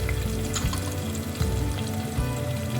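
Tomatoes and green chilies sizzle steadily in a hot pan for a spicy fenugreek and potato sabzi, a dense continuous frying hiss with occasional stirring scrapes, close-up and uninterrupted.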